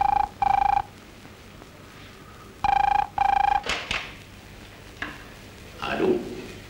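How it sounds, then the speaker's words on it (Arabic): A telephone bell rings in two pairs of sharp, loud bursts separated by a pause, followed by a few softer thumps and clatters in an indoor scene from an old Egyptian Arabic film. "محسن تليفون"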